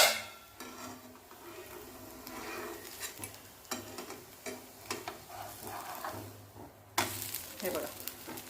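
A leftover-rice thalipeeth flatbread roasts in oil in a pan, a soft steady sizzle punctuated by clinks and scrapes of a spatula against the pan, with a brief louder burst near the end.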